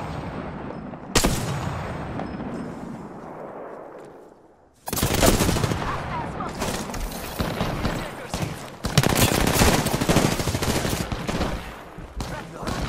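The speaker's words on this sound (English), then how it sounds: "I'm spotted, taking fire!" Sustained gunfire in Apex Legends, loud close bursts of rapid automatic fire broken by brief pauses, one sharp shot early and then dense volleys, mixed with voice callouts.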